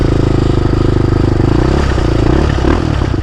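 Yamaha Raptor 660 ATV engine revving loud and close during a downshift, a rough, throbbing mid-pitched drone that wavers and clatters as the gear changes, with no talk over it.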